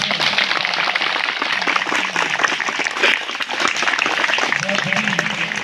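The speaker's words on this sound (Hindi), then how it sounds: "उनके लिए जोरदार तालियों से" Loud, sustained applause from a large crowd at a school farewell ceremony, a dense wash of clapping that continues throughout with a voice faintly audible beneath it.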